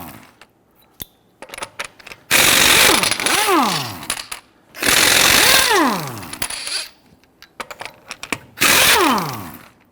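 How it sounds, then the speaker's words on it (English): An impact wrench with a 19mm socket loosens lug nuts behind the right front wheel of a 2010-2019 Ford Taurus, in three loud, close bursts that each end in a falling whine, with light clinks of handled nuts between. "we're going to go loosen and remove our lug nuts."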